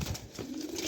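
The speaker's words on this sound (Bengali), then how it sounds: "দেখেন কবুতর জোড়া" A pair of large pigeons coos with a low, steady murmur that swells toward the end, close by and fairly loud, with no talk over it.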